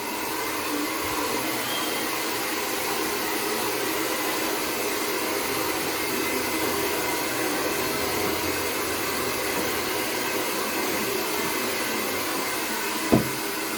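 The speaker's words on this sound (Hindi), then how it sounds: "सबसे पहले हेयर में ड्रायर करें।" A hair dryer blow-drying hair, a steady close whooshing hum running unbroken from start to finish, with a brief soft knock near the end.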